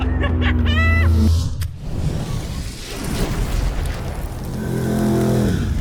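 A McLaren 600LT revs loudly and then bursts off the line under launch control, followed by a roaring surge of acceleration and a sharp crackle, heard from close by without talk.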